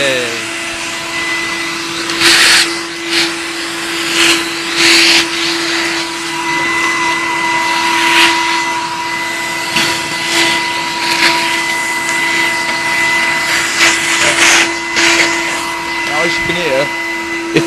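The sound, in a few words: Henry vacuum cleaner motor running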